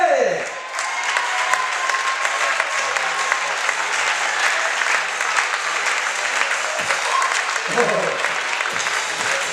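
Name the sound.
applause from audience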